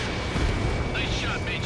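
A continuous rumbling boom from destroyed targets in the Ace Combat 7: Skies Unknown jet combat game, dense and low, with faint higher chirps over it partway through.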